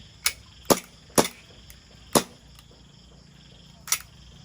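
Gas-powered airsoft AK rifle test-fired after being tuned to lower power, six sharp single shots at uneven intervals, close and crisp against a quiet background.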